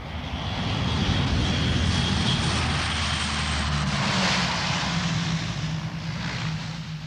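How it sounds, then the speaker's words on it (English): An RAF Hercules transport aircraft lands on a bomb-cratered runway, its propeller engines giving a loud, steady, continuous drone close by throughout, with no voices. "the first of the RAF Hercules lands between the bomb craters on a stretch of runway"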